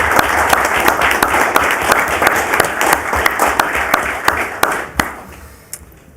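City council meeting audience applauding together, a dense steady wash of clapping with sharp individual claps that thins out and fades to a few scattered claps at the end.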